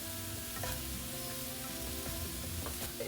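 Chili and coriander powder sizzle in the pan of a spicy Kerala lamb curry, a dense continuous hiss with a low steady hum beneath and faint stirring knocks.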